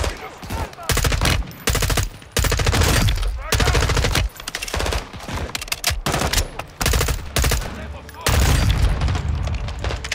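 Loud gunfire from Call of Duty Modern Warfare II comes as repeated dense bursts and heavy booms, broken by short gaps, with voices talking over and between the shots.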